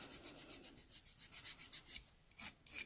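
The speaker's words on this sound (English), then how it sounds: "until it comes to actually just buffing the surface, then I'd rather use the file" A nail file buffs the surface of dip powder nails in quiet, rapid back-and-forth rasping strokes, soft and close, with a brief pause near the end before the scraping resumes.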